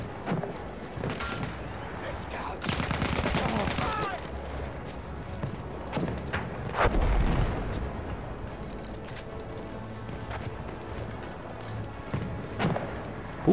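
Bursts of gunfire from an attack on an anti-tank gun in Battlefield 1's campaign, loud volleys around the middle and again later over constant battlefield rumble and noise.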